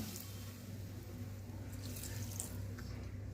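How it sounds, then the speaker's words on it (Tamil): A quiet, steady stream of water running into a cooking pot of vegetables for sambar, a soft continuous hiss with no voices. "ஒரு கொஞ்சம் தண்ணி வந்து ஆட் பண்ணிக்கலாம்."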